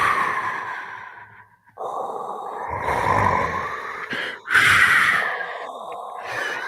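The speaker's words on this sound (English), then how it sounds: "I have a speaker rigged up as well that gives me the breathing sound also." A speaker rigged into a Darth Vader costume plays loud, close mechanical breathing: a long rasping inhale, a brief gap, then heavy hissing breaths in and out, with no talking.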